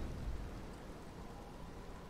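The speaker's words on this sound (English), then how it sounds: "See, that stops the rain." Steady rain hiss with a low thunder rumble underneath, from the Elden Ring video game world, fairly quiet and continuous throughout with no speech.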